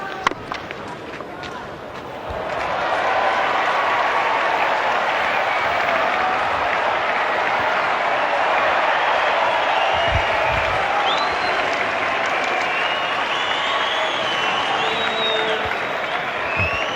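Spectators at a Sri Lanka versus West Indies cricket match break into loud cheering and applause after a stroke, a sustained crowd roar that rises after about two seconds and carries to the end, with a commentator's voice at the start.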